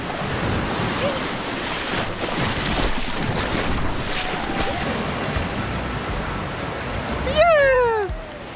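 A tour boat moves along the Caribbean coast near Playa Manzanillo, Costa Rica, with steady wind buffeting the microphone and surf washing throughout, and a brief voice rising near the end.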